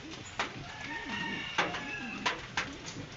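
Pigeons coo softly and repeatedly nearby, with a few sharp knocks and rustles breaking through the steady background, at a pigeon racing event.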